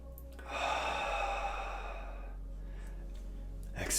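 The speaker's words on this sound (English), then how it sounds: "have a deep breath in." A single deep breath during a morning meditation: a long, breathy sigh swells in close to the microphone and fades over about two seconds, followed by quiet and a soft breath sound at the end.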